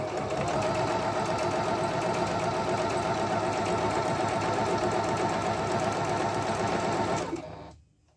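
A Singer Monica 5200 sewing machine stitches steadily for about seven seconds with a fast, even mechanical whir, loud and close, then stops abruptly into silence.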